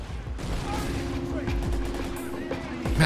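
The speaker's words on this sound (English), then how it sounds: "And rockets scuffing into the buildings." Rocket and gunfire barrage in the Assault Squad 2 war game, a dense run of explosions and shots hitting buildings, loud and continuous with a steady droning tone underneath and a heavier burst at the end.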